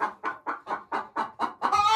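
Hens in a chicken coop with nests, eight close rhythmic clucks in even succession, followed by a louder drawn-out squawk at the end.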